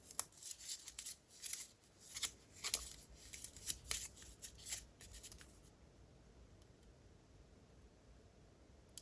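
Paper being cut with scissors for a budget DIY stamp craft, a run of crisp snipping strokes over the first half, then quiet.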